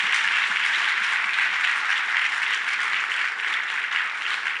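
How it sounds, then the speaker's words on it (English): Conference audience at a software developers' lightning-talk session applauding the speakers, a sustained, even patter of many hands clapping at moderate level, slightly thinning toward the end, with no talk over it. "let's give a great round of applause to all these wonderful 12 people who spoke"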